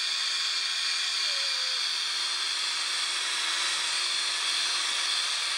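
A power drill with a 3000-grit buffing pad polishes a headlight, giving a steady, high whirring whine that holds an even pitch throughout, close and constant, with no talking.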